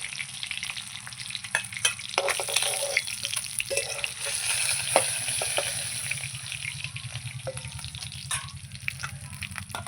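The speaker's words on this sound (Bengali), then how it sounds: "এই মাছগুলো ভাজা হয়ে গেলে হয়ে যাবে" Fish pieces fry in hot oil in a pan for a fish curry, giving a steady, close crackling sizzle throughout with scattered sharper pops and occasional stirring scrapes; no one speaks.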